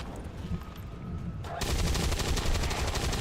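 Gunfire erupts in the XCOM 2 video game, a sudden dense burst of rapid shots that follows a quieter stretch of game ambience and stays loud to the end.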